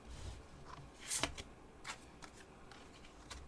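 Tarot cards being shuffled and drawn during a reading, producing soft papery riffles and flicks with a sharper snap near the middle and a few light slaps afterward, close and quiet with no talking.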